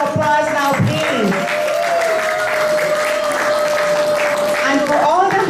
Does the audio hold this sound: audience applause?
yes